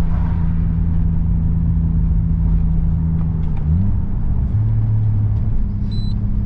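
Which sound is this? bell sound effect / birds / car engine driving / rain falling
car engine driving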